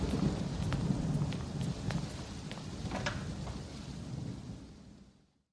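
Steady heavy rain pours with a low rumble of thunder in a radio drama scene, a broad wash of downpour with scattered drop splashes that fades away at the end.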